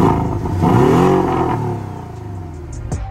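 A 2018 Porsche 718 Cayman's turbocharged flat-four engine revs up sharply through its dual-tip exhaust with a rising, throaty growl, then drops back to a burbling idle close by.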